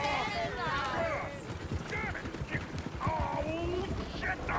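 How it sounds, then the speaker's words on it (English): Horses gallop in the Western open-world game Red Dead Redemption 2, with a busy rumble of hooves and mixed game noise that runs throughout under a loud backdrop of sound. "Oh, shit, the horses! Damn horses!"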